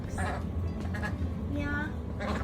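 A few ducklings quack in short nasal calls, fairly close, over a steady outdoor background hum.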